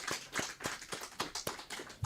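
A church congregation applauding during a Sunday worship service, a quick run of fairly faint, evenly spaced claps lasting about two seconds with no voices.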